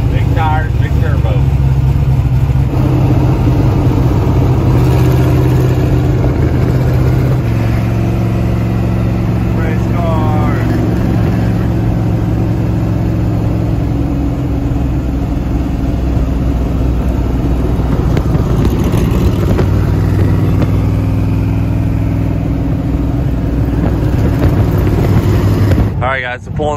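A Chevrolet El Camino drag car with big tires and a big turbo idles and warms up, its low engine rumble steady and loud throughout while people talk over it.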